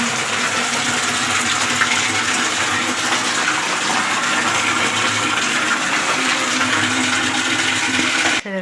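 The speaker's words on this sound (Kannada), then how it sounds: "ನೀರು ತುಂಬಿಸಾಯಿತು" Water pours into a bucket with a loud, constant rushing splash that carries on unbroken, then cuts off at the very end.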